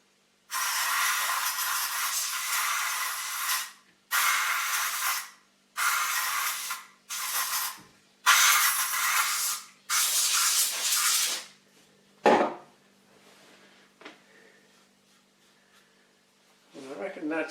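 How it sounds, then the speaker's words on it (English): Dry compressed air sprays in loud, close hissing bursts over a Celestion Ditton 25 T1600 woofer being repaired for scratchiness, six long blasts then short puffs with quiet gaps. "dry compressed air."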